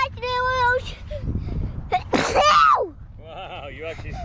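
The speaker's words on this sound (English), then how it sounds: "Wow, you actually sneezed." A young child lets out a sharp, close sneeze in the middle of a burst of voices and breathy sounds, with children's and adults' voices heard around it.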